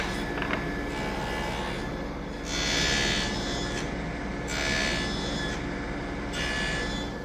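Table saw cutting tenon cheeks in a wooden workpiece for a contemporary table: a steady motor drone with three louder cutting surges, each lasting about a second, close and alone.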